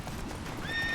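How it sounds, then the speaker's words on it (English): Geralt's horse Roach in The Witcher 3 gives a brief high whinny toward the end of a short stretch of hoof clatter and background noise. "Bloody horse."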